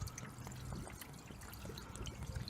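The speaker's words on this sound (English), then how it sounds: "we'll just go ahead and pour the whole bottle directly into the oil" Engine flush liquid pours steadily from a bottle into the oil of an old Mercedes W124 E300D diesel engine, a soft continuous glugging trickle heard close up with no talking.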